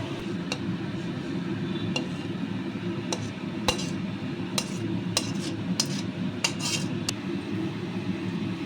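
Carrot halwa being stirred in a pan, with scattered sharp clinks of a metal spoon against the pan over a steady low cooking rumble, no talking.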